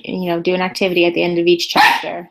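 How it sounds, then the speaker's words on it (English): A dog barks a few times in the background while a person talks steadily over it, the barks short and fairly close, partly buried under the speech. "the dog just started barking"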